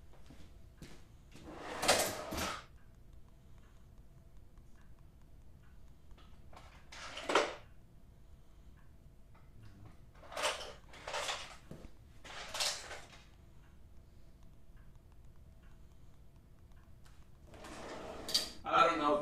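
A drawer is opened and closed in an art studio during painting: a handful of separate sliding, clattering bursts spaced across a quiet room, some close together in quick pairs.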